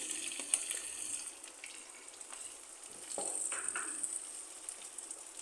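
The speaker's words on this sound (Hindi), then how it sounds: "हरी मिर्चों को भी थोड़ा मैं फ्राई करूँगी" Green chilies fry in a pan with a soft, hissing sizzle that swells and dips, punctuated by light stirring clicks, all fairly quiet with no voice.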